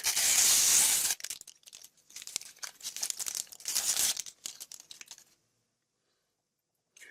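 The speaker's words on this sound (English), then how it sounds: "Now we're going to remove the plastic." Plastic film peeled off a Galaxy Note 2 phone makes a loud opening hiss of tearing, then bursts of crinkling and crackling at close range before the sound drops to near silence.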